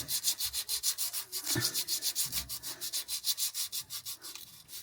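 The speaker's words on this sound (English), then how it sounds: "A bit of sandpaper, I reckon, on that surface." Sandpaper scrubbing a corroded ignition amplifier module surface on a classic Land Rover Range Rover, a steady rapid back-and-forth rasp of roughly five strokes per second, close and continuous, with a faint thump partway through.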